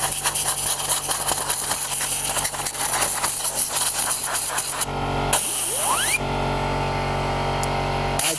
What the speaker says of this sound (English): I'm going to spray this motor saver off real good.